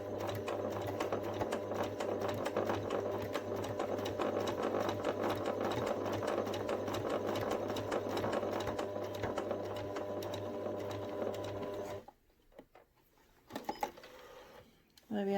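A sewing machine runs steadily, stitching a narrow seam to hold a teddy bear's arm in place, a loud continuous whir that stops near the end, leaving near-silence and a few small handling clicks.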